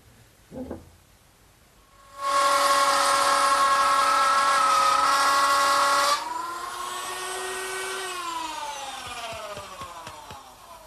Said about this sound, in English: the groove is just cut with a router, mounted underneath a router table